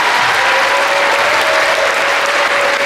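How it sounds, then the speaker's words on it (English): An audience at a school stage production of The Wizard of Oz applauds after the first act, dense and loud sustained clapping filling the room without a break. "Give them another round of applause, please."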